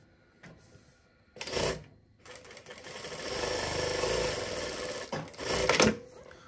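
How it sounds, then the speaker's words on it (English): A Brother S7180A813 direct-drive lockstitch industrial sewing machine runs in a steady mechanical burst of a few seconds. Short clacks come before and after it as the presser foot lifts and the thread is cut. Close and moderately loud, with no talking. "the machine automatically lifts up the presser foot and cuts the thread for you"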